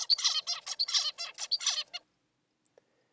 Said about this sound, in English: I will play for you a normal song from a zebrafinch recorded on July 25th at 1:54 in the afternoon